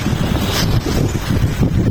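Wind gusting outdoors on a snowy city street at night, a steady rough roar of buffeting air over the microphone, loud and continuous throughout with no talk.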